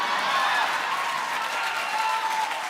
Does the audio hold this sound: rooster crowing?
no